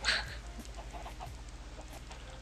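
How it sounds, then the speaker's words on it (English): Minecraft chickens cluck softly in a player-built chicken farm walled with leaf blocks, a few faint clucks over a steady low background hum, no talking. "showing you this fancy chicken farm that we finally made"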